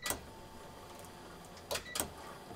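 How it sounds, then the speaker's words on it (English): A fuel pump relay on a turbocharged car clicks on, giving a few sharp, brief ticks: one near the start and two close together near the end, fairly faint against a quiet background. "You can hear that relay turning on even."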